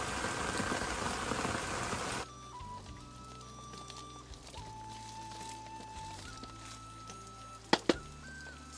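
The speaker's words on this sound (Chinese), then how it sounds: "下雨天真的干啥都不方便" Steady rain pours down, loud and dense, for the opening two seconds before giving way abruptly to a quiet room hum with faint tones and a couple of sharp knocks.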